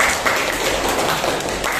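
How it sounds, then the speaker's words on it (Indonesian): Students in a classroom applaud together, giving a dense, fairly loud burst of hand claps that carries on without pause for the whole stretch, with no voices over it. "Ya bagus sekali, kasih tepuk tangan anak-anak."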